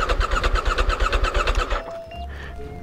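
A CFMOTO motorcycle engine cranks over in a rapid, even chugging rhythm for nearly two seconds, never catches, then falls quiet apart from faint electrical whines and a low hum.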